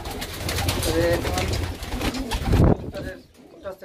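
Racing pigeons at a pigeon farm in Narayanganj give a few low, throaty coos close by, with talking over them for most of the stretch before it quiets near the end.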